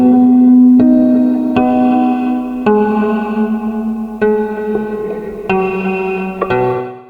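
A fretless guitar runs through a Red Panda Context 2 pedal in gated reverb mode: about eight plucked notes ring out, each with a sustained, shimmering reverb tail that is abruptly gated, loud and close, with no voices.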